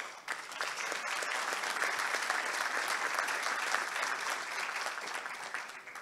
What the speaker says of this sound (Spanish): le dieran un gran aplauso a todas las personas del comité de programa